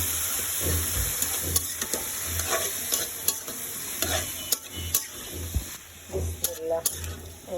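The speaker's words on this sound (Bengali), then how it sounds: "এখন আমি উস্তাটা দিয়ে দিচ্ছি" Bitter gourd tossed into a pan of frying shrimp, stirred steadily with a spatula under a constant hiss and sizzle, with repeated scraping strokes close up and a low background hum throughout.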